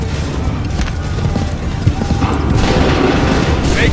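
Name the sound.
musket volley firing from the video game Assassin's Creed 3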